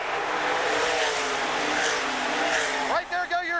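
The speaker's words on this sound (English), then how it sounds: "we got all the heavyweights of sprint car racing right here on this speedway right now" Sprint cars roar around a dirt speedway in a loud, continuous high-pitched engine howl that sweeps and fades near the end, with a race announcer talking over it.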